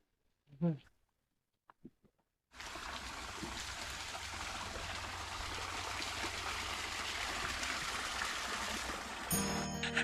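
Spring water runs down from a hill at Chilakala Gutta near Medaram, a steady, close rushing flow that starts abruptly after a few faint bird calls and continues evenly to the end.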